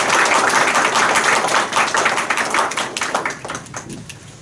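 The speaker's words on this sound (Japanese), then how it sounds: "改めて拍手をお願いいたします" Audience applause at a university e-teaching award ceremony and lecture, a dense burst of many hands clapping that thins out and fades toward the end, with no talk over it.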